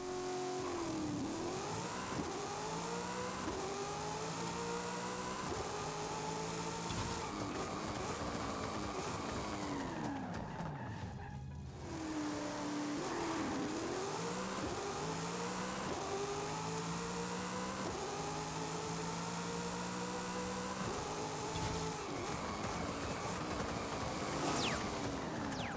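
A tuned drag car in Forza Horizon 5 roars through a full run, its engine revving hard and climbing through repeated gear shifts with a brief drop mid-way, loud and continuous for about twenty-five seconds.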